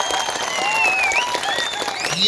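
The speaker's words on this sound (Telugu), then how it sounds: "ఇవాళ మీరందరు పెద్ద ఎత్తున చప్పట్లు కొట్టండి." Crowd applause at a political rally, sustained and fairly loud across the whole stretch, with whistles and shouts rising over the dense clapping.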